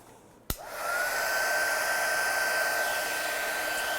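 A hair dryer blowing over a piece of artwork clicks on with a sharp pop, then settles into a steady whooshing whine that holds at an even, moderate level.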